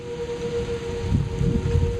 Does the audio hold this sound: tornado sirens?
yes